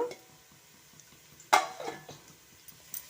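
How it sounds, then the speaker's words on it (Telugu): Onions fry in a pan for a mutton and cucumber curry, a faint steady sizzle with a sudden loud scrape or clatter of the spoon, then a few softer stirring knocks. "ఇవన్నీ ఆనియన్స్ అయితే ఫ్రై చేస్తున్నా"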